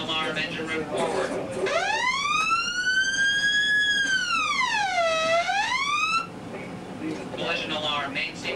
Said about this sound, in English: Collision alarm, engine room forward.